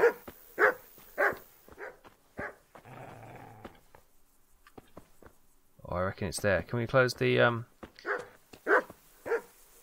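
A dog in the medieval role-playing game Kingdom Come: Deliverance gives a burst of rough, rapid barks and growls near the middle, while someone talks before and after.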